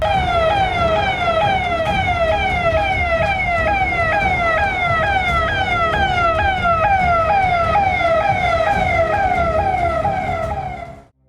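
An ambulance siren wails loud and close in a film scene, rapid rising sweeps repeating without a break for about eleven seconds before cutting off abruptly.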